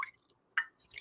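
Water drips and splashes into a measuring cup in short, close plops with brief quiet gaps between them.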